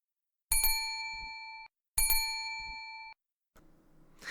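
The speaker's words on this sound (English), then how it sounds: "here's a bell. You ring it when you're ready" A hand bell is rung twice up close, each a bright metallic ding with a ringing tail of over a second, followed by a soft rustle.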